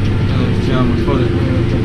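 A Kubota M7151 Premium tractor engine with a DPF idles close and loud, a steady low rumble throughout.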